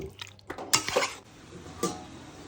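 A metal plate clanks against a mutton cooking pot as it is set on top as a cover, with a couple of sharp clatters and a quieter clink after.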